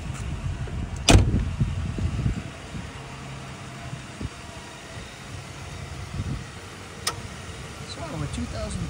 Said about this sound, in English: Power seats.